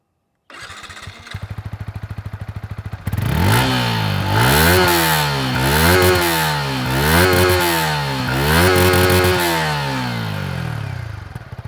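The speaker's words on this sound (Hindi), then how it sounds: "आपको इसका एग्जॉस्ट नोट सुनाता हूँ" A 2025 Yamaha MT-15 DLX motorcycle starts up and idles briefly, then its exhaust revs loudly and repeatedly up and down in close, rhythmic throttle blips.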